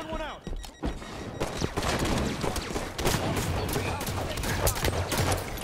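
Rapid gunfire from an online multiplayer shooter, a dense run of sharp shots and impacts with a few louder cracks, with players talking over the action.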